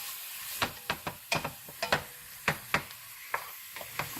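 Carrots and celery stirred in a pan, with a spoon scraping and knocking against the pan in a dozen or so irregular close taps over a faint low sizzle.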